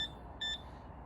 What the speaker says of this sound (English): This is the metal detector.